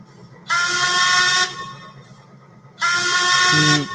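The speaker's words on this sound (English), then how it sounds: "that whistle is pretty good" An old-timey American whistle gives two long, loud, chord-like blasts, each about a second, separated by a short gap, sounding close and reedy like a train whistle.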